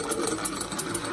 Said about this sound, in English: The engine runs,